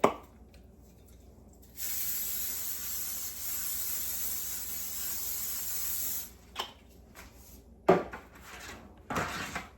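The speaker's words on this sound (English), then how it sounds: "I'm going to go ahead and spray my pan" A continuous hissing spray from an aerosol can lasts several seconds, followed by a few clanks of a metal pan being handled.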